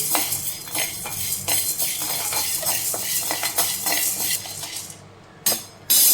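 Chana dal and urad dal dry-roasting in a pan over a low flame for drumstick-leaf powder, with a steady rattling scrape of lentils being stirred and repeated clinks of a spoon against the pan, close and fairly loud, pausing briefly near the end.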